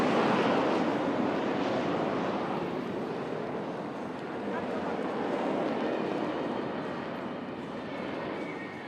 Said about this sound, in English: These aircraft will now be crossing each other right in front of you.